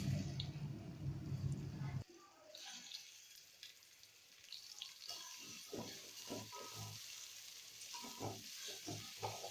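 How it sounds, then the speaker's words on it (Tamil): Long-sliced onions sauté in hot oil and ghee for chicken biryani. A loud, close sizzle eases into a softer, steady frying hiss, with scraping and clattering stirring throughout. "அதை சேர்த்து நல்லா வதக்கி விட்டுறலாம்."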